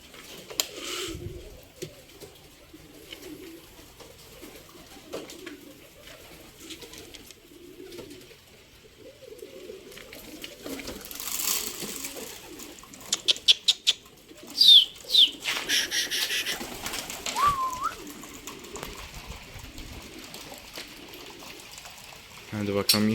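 Pigeons coo repeatedly in a low, soft rhythm outdoors, close by, with a few brief higher chirps and faint rustling around them.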